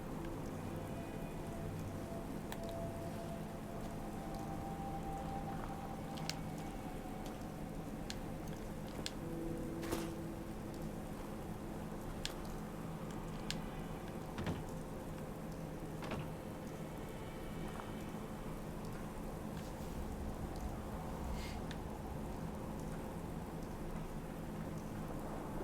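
Steady rain falls in the Fallout 4 wasteland near a bridge, a soft, even hiss of drops holding constant throughout with faint scattered ticks, fairly quiet and alone.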